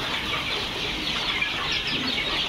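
Egyptian Fayoumi chickens clucking on a farm, a dense steady chorus of many birds close by with busy overlapping clucks and calls throughout, no talk.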